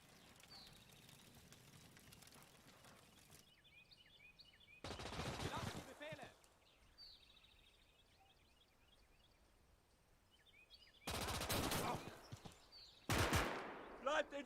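Machine-gun bursts and gunfire crackle in a World War II battle in the game Gates of Hell, loud intermittent volleys of rapid shots separated by quieter stretches of distant battlefield ambience.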